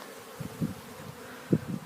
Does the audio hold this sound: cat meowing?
no